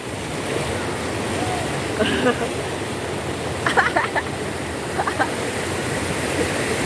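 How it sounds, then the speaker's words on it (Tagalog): A strong river current rushes at Lettac Norte, Santol, La Union, a steady broadband roar of water that fills the whole clip, with brief voices rising over it near the middle. "Malakas ang agos."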